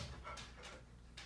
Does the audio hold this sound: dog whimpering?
yes